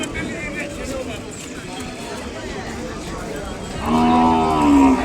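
A young calf at the Kodad Sunday cattle market lets out a single drawn-out moo near the end, with people talking and general market noise throughout.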